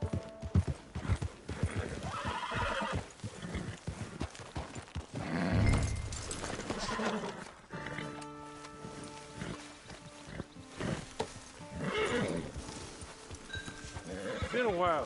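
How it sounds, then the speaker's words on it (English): In Red Dead Redemption 2 Online, a horse whinnies several times while its hooves clop. A musical game soundtrack and voices play alongside. "Get your horse."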